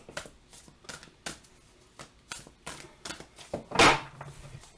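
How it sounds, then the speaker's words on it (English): A large tarot deck is shuffled by hand: a run of close, crisp card riffles and taps in an uneven rhythm, ending in one louder flurry of cards, with no talking. "I'm going to shuffle this a few times and then I'm going to fan it and pull them"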